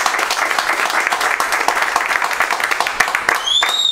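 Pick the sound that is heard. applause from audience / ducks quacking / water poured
applause from audience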